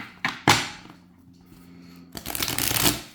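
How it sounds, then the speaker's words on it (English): A new deck of cards being riffle shuffled, a couple of sharp snaps followed by a long close riffle flutter, no voices. "I was thinking these cards were going to be really stiff and impossible to shuffle, and guess what?"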